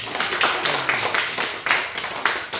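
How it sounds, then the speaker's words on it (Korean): Scattered clapping from a small audience in a seminary worship-studies class, a few hands striking in uneven bursts that swell and fade over a couple of seconds, fairly close and moderately loud. "충성하니까 박수 좀 쳐주세요"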